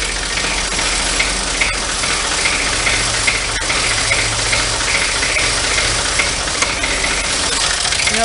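A Renault D30 tractor engine runs steadily and loudly, its rough, knocking idle rising slightly as the throttle is opened, with rattling and vibration throughout and no voices.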